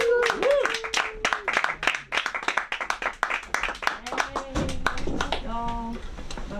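A comedy school audience claps and cheers to welcome a comedian to the stage. The applause is dense and lively, with a host's amplified voice and shouts running over it throughout.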